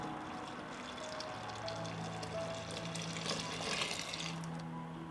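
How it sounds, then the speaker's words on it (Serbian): Two litres of water pour into freshly ground peach juice in a kitchen, a steady close gurgling stream running throughout with no talk. "dodajem 2 litre vode u ovaj sok"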